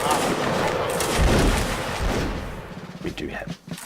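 Musket volley fire in the Napoleonic Wars battle game, dense crackling shots rolling continuously and loudly for several seconds, thinning toward the end as a commander's voice talks over it.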